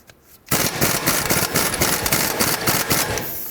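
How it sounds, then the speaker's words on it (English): A ratcheting tool spins off a strut nut with a 15mm socket on the front strut of a 2007-2010 Chrysler Sebring, giving a loud, close, continuous rapid clatter that starts suddenly and runs on without talk. "15mm socket, let's remove this nut."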